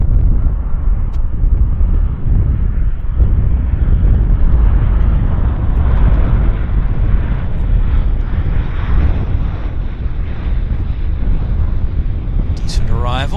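An airliner arrives and lands at Vancouver Airport, a steady heavy jet roar with deep rumble holding for over ten seconds, with people talking faintly over it.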